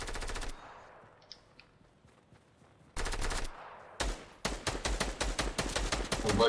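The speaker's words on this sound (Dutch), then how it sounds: "er zijn schoten bij jullie dicht" Rapid bursts of gunshots or fireworks bangs on New Year's Eve, rattling volleys that stop, leave a quiet gap with distant pops, then return loud and dense in repeated crackling strings.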